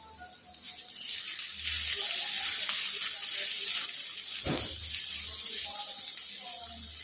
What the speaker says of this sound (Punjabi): ਹੁਣ ਆਪਾਂ ਇਹਦੇ ਵਿੱਚ ਕੱਟੀਆਂ ਹੋਈਆਂ ਦੋ ਹਰੀਆਂ ਮਿਰਚਾਂ ਪਾ ਦਵਾਂਗੇ